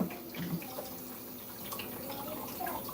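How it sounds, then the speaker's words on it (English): Potatoes washed under running tap water, a close, steady splashing stream with small drips and clunks of handling, fairly quiet and without voices. "I'm actually gonna wash my potatoes right now."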